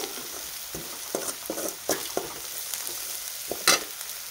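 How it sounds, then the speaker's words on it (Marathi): Onion fries in oil in a pan with a soft continuous sizzle, broken by light scrapes and taps from stirring and one sharper clatter near the end. "बघू शकता आता आपला कांदा पण छान परतत आलेला आहे"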